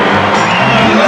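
Loud basketball arena crowd at a 1996 NBL game between the Perth Wildcats and Illawarra Hawks, a dense wash of cheering and shouting voices that holds steady throughout.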